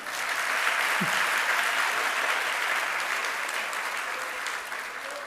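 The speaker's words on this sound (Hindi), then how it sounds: "ये हमारे आप लोगों के लिए तालियां हैं।" Listeners at a Jain spiritual discourse break into sustained applause, a full, even roar of clapping from a large gathering that stays loud for over five seconds before easing slightly at the end.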